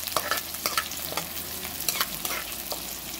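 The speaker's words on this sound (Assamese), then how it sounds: "লৰাই দিছোঁ অলপ" Onion with cinnamon and cloves frying in a pan is stirred, giving a steady sizzle broken by repeated scraping strokes of the spoon, close and without talk.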